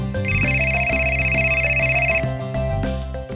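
A mobile phone ringtone plays loud and close, a bright repeating electronic melody over a steady tonal backing that runs through nearly the whole stretch without talk.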